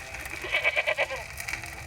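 Cartoon goats bleating in an animated game scene, a short cluster of quavering, nasal bleats rising over a faint background.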